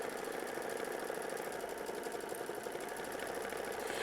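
A sewing machine running steadily as it tacks down a quilt block with a heavy stitch, a close, continuous mechanical hum and rapid needle chatter with no pause.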